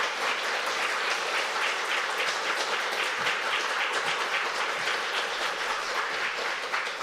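Church congregation applauding to welcome their pastor at a combined worship service, a steady, dense clapping that fills the room evenly for the whole stretch without pause.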